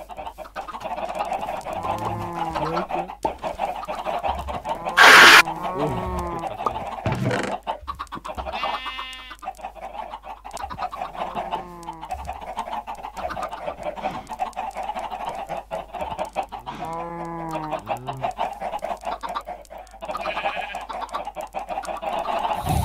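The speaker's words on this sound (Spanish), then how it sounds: "hay pollo suelto." Chickens cluck repeatedly in Minecraft, with short clucks and squawks scattered throughout against a steady farmyard ambience that also holds other livestock calls.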